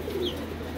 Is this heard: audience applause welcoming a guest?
no